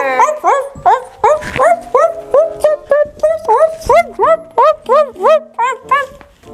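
A dog barks over and over in a steady, even rhythm, loud and close, each bark short and sharp.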